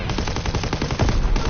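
Rapid automatic gunfire from an aircraft gunner in Call of Duty WW2, a dense, continuous rattle of shots that stays loud and close for the whole stretch with no voices.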